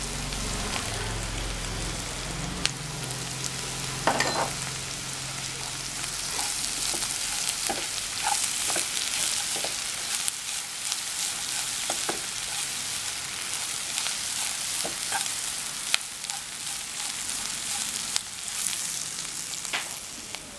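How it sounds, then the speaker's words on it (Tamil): Onion and grated coconut stir-fry in a hot pan for coconut fried rice, giving a steady crackling sizzle with occasional scraping and clinking of a spoon against the pan, close and continuous. "வெங்காயம் வதங்கியாச்சு, நீ துருவி வச்சிருக்கிற தேங்காயை அதில் சேர்த்துக்கலாம்."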